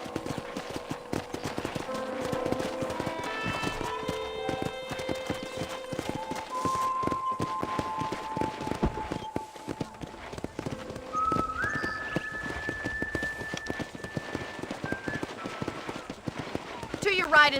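Rhythmic clip-clop of horse hooves plays steadily under a talking voice and tonal musical notes, a horse riding at an even pace in the video game Red Dead Redemption.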